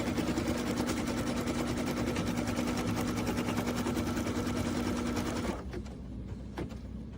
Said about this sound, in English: So we'll just start stitching step number 3.